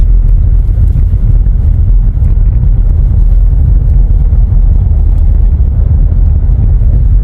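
Steady low road rumble heard from inside a car driving through central Kyiv, continuous and fairly loud with no speech.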